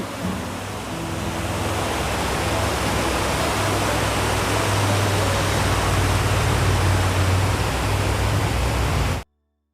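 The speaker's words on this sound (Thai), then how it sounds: "มีน้ำตกด้วยคุณผู้ชมดูสิคะโอ้เนาะน้ำตกสวยๆคุณผู้ชม" A waterfall near a village pours in a steady, full rushing roar, close and loud, continuing without pause before cutting off abruptly at the end.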